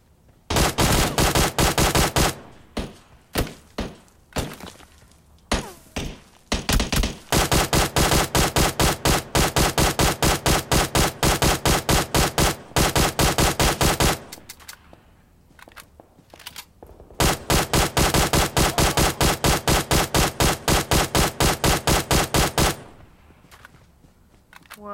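Gunfire in PUBG Mobile: long, loud, rapid automatic bursts with brief gaps between them, close and dominant, several sustained strings of shots, with no talk over them.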